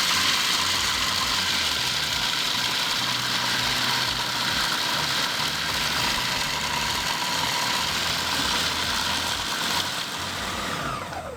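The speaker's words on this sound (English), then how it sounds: "then I'm gonna switch on the food processor." A food processor grinds peanuts with honey in a continuous loud, rattling mechanical whir that holds steady for several seconds before easing slightly near the end, with no talk over it.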